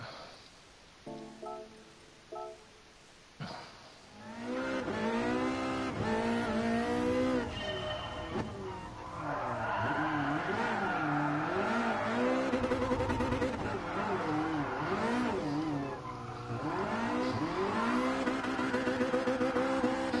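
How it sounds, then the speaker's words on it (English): A race car engine in GT Sport screams at high revs, repeatedly bouncing against the limiter in a stuttering buzz, with tyre squeal and brief murmurs early on. "the noise might do some people's head in when I'm thrashing the limiter"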